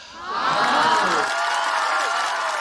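A stand-up comedy audience bursts into loud, sustained applause and cheering, with whoops rising over a dense wash of clapping.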